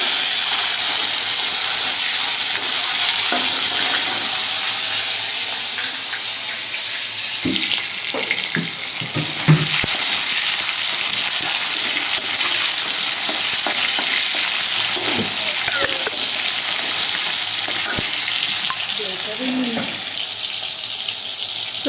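Tomato frying in a pan with cumin seeds and dried chili, a steady broadband sizzle throughout with occasional stirring clatters and scrapes, close and fairly loud, no talking.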